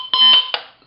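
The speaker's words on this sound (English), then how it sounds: "And then that alarm will go off here when it goes 7:37." GPX C222B alarm clock sounding its alarm, a short burst of loud, shrill electronic beeps heard close up, two or three quick pulses that trail off within a second.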